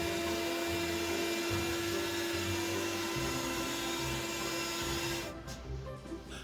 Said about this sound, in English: I vacuum up everything the skewer knocked loose